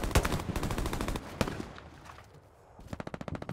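Rapid bursts of MG42 machine gun fire in the game Hell Let Loose, loud and close, with a dense stream of shots, a brief pause, then another quick burst near the end.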